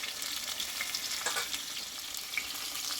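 Pointed gourd (potol) pieces frying uncovered in hot oil give off a steady, close hiss with light crackles throughout, with no voices.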